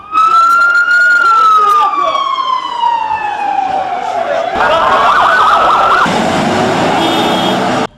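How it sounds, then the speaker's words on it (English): Ambulance siren wailing in a city under bombardment, a loud descending tone sweeping down over several seconds before turning into a harsh, rising electronic yelp, close and dominant with no speech. "Now I hear the ambulances running."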